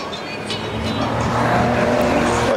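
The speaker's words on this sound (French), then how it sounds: "Maserati, je pensais que ça ferait plus de bruit que ça" A Maserati drives by, its engine a steady, moderately loud broadband rumble with some tire noise that swells slightly as it nears, with no talking.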